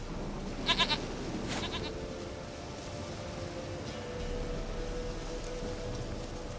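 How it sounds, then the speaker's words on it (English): A goat in The Witcher 3 video game lets out a short wavering bleat, followed by a second fainter one, over a steady hiss of rain with no talking. "Goat of mine, dearest, sweetest goat."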